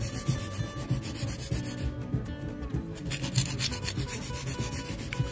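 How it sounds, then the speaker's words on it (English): A regular nail file rasps back and forth along the sides of extra-long pointed stiletto nails, a continuous close scratchy rubbing with rhythmic strokes and a brief pause midway. "I'm going to take my regular file, I'm going to file the sides,"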